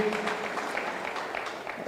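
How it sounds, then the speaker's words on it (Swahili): A crowd at a Kenyan political gathering claps steadily for a speaker in a short burst of dense applause, filling the whole moment without any talking. "Tumpigie Muthomi Njuki makofi."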